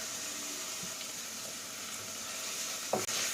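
Ginger garlic paste sautés in a pan for brinji rice, giving a steady, close sizzle throughout with a brief stirring knock near the end.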